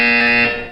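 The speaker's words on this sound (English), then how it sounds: "You will hear a buzzer." A loud, steady electronic buzzer tone sounds once in the video game Portal 2, holding for under a second before fading.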